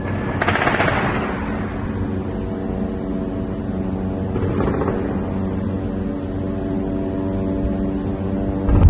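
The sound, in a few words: gunfire around Kamal Adwan hospital in Gaza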